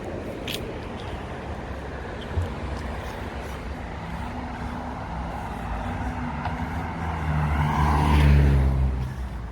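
A Ford F-250 pickup truck drives along a road, a steady broadband engine and road noise that swells louder near the end, with no talk over it.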